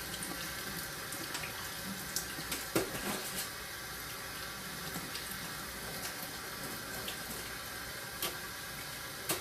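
Cold water runs steadily from a kitchen sink tap while freshly boiled, still-warm eggs are peeled beneath it, a soft continuous splash with occasional brief knocks and clinks.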